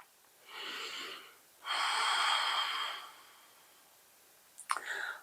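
Two long, audible breaths from a yoga breathing exercise in a vinyasa flow class, a softer inhale then a fuller forceful exhale, followed by quiet and a short sharp snort-like breath at the end.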